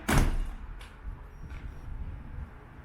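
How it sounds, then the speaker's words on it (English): The door of a Southern Pride smoker shuts with a single solid thud at the start, followed by a faint second knock and low room hum. "Close the doors to make the temperature gauge work."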